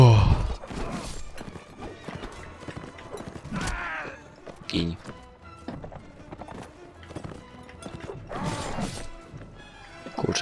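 Horse neighing and hoofbeats in the medieval battle game Mount & Blade Warband, with clattering gallop, clashes and crashes running throughout at moderate loudness, while a voice talks over much of it.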